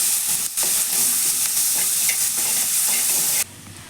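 Ginger, garlic and green chili paste roasting in a hot pan gives a loud, steady sizzle with scraping stirs, then drops abruptly quieter near the end; no one speaks.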